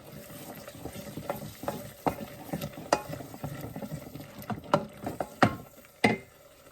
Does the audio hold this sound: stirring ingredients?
yes